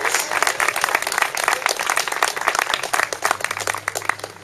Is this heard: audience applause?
yes